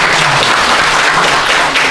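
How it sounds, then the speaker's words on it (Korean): Conference attendees in the main hall of the National Library of Korea's digital library burst into dense, sustained applause, loud and close, with no speech over it. "박수 부탁드리겠습니다"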